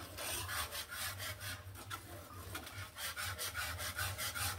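A spoon stirs caramel in a pan for pudding, scraping the bottom in quick rhythmic strokes, close by but fairly faint, with no voices.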